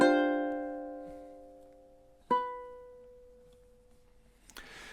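Ukulele playing measure 18 of a song: a strummed chord rings out and decays slowly, followed by a single plucked note, with a faint soft noise at the close; no talking.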